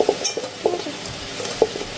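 Curry sizzling and frying in an iron kadai in a home kitchen, with a soft steady hiss broken by a few stirring scrapes and light clinks of a spatula against the pan, close and alone without talk.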